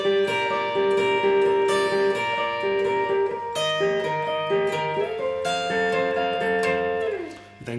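A guitar plays a fingerpicked pattern, with arpeggiated chord notes in a steady rhythm, close and clear, shifting up the neck midway before ringing out.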